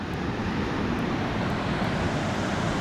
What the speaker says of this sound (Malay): Ni angin daripada laut ni geng.